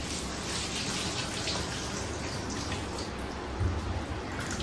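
Water splashes and runs steadily as kachki fish and potatoes are rinsed in a kitchen, making a continuous close wash of sound with a brief louder slosh near the end.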